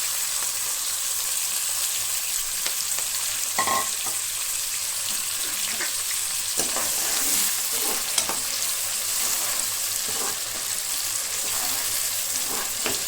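Onions and green chillies fry in oil for a chicken curry, giving a loud, dense, continuous sizzle. Scattered clinks and stirring scrapes run through it, and no one speaks.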